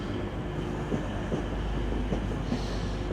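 A TransPennine Express train to Cleethorpes passes close by as a loud, continuous rumble, with faint rhythmic wheel clatter and no voices.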